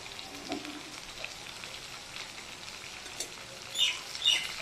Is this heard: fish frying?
yes